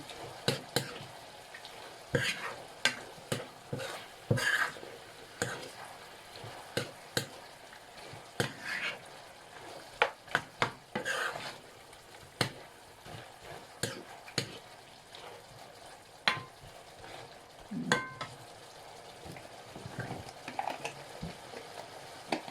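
Beef simmering in coconut milk and red curry paste in a pot, a steady low bubbling and hiss broken by frequent clinks and scrapes of a stirring utensil, close by with no talking.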